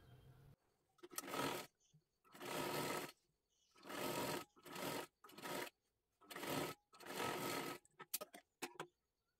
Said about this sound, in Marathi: ह्याच्यावरती आपल्याला परत एकदा डबल शिलाई मारून घ्यायची आहे पूर्ण बाहीला.